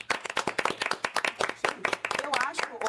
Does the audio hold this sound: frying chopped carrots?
no